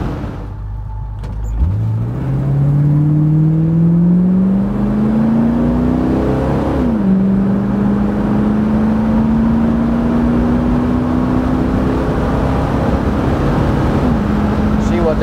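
A 1965 Ford Mustang 2+2 Fastback with a 289 V8 accelerates hard from inside the car, its engine note climbing steadily through the gears, then settling into a loud, sustained drone.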